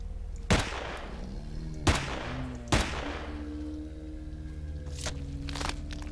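Three sharp, loud gunshots in the survival game Empyrion Galactic Survival, spaced about a second apart with short decaying tails, followed by two fainter shots over a steady low hum.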